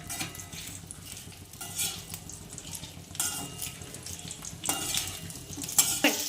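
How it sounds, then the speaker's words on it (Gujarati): Okra stirred in hot oil in a pan, a steady close-up scraping and soft sizzling with louder stirring bursts now and then, no voices. "ભીંડા સરસ બધા તેલમાં મિક્સ કરી લઈએ અને ફ્રાય કરી લઈએ."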